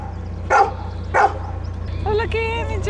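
Dogs riding aboard a narrowboat give two short barks about half a second apart, close and clear over a steady low engine hum, followed by a higher whining yip.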